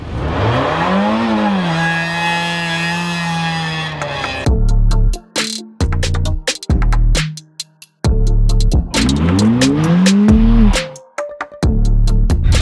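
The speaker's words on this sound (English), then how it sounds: "I wonder what happens if I rev the piss out of it in neutral and then just drop it into gear" A demolition derby car revs hard in neutral, the engine climbing and holding high, then drops into gear with choppy, sputtering bursts and another rising rev, loud and close.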